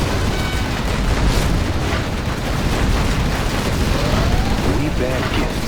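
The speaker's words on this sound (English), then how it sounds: "Our nuclear missile is ready, General." A nuclear missile strike in Command & Conquer Generals Zero Hour, playing as China, lands as a loud, sustained roaring blast. A dense rumble of explosions fills the whole stretch without letting up.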